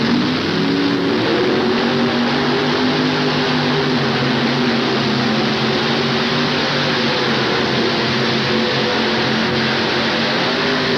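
Tractor-pulling vehicle powered by a Millington Chrysler-type drag racing engine, a loud, continuous roaring drone that holds steady throughout without any break.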